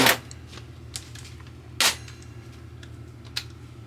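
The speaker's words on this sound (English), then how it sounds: "you just kind of kiss it with the impact" Impact wrench giving short, sharp bursts to a 10 millimeter crank bolt while assembling a QMK stroker scooter engine, two or three quick rattling hits close up with quiet gaps between.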